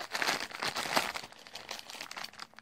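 Close crinkling and crunching of a sealed plastic coin bag, with a few sharp snips of scissors cutting through it.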